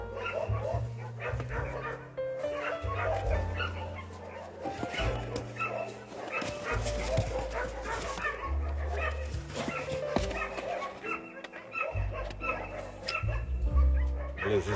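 Several abandoned puppies whimper and yip continuously, high thin cries overlapping nearby, with occasional low murmurs in the background.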